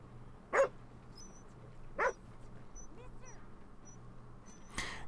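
Dog barking in Red Dead Redemption 2: two sharp single barks about a second and a half apart, then a softer yelp near the end, all over a low steady ambient hum.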